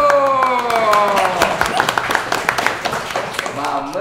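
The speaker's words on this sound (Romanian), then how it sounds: "vă rog frumos să-l primiți cu aplauze pe" Applause greets a guest during a classroom comedy sketch, a burst of clapping heard over a voice that keeps speaking, with sharp individual claps that thin out toward the end.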